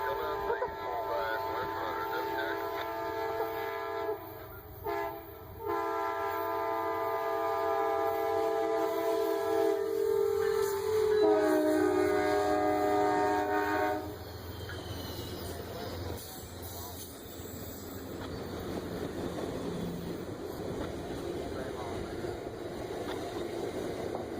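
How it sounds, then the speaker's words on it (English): Northbound Amtrak Crescent passenger train near Birmingham, a Dash 8-32BWH locomotive trailing, sounds a loud sustained horn chord with short breaks, then gives way to a broad steady rumble of passing cars. "The Crescent was coming around the curve, and with a Dash 832 BWH in trail."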